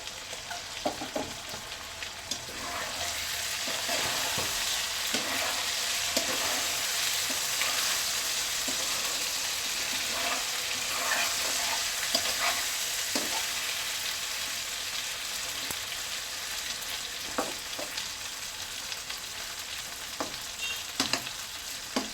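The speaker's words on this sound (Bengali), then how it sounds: "এভাবে আমি উল্টে পাল্টে আরো 5-10 মিনিট ভাজবো" Beef spleen and potatoes with green chillies fry in a pan, a steady close sizzle broken by repeated scraping and clinking as the pieces are stirred and turned.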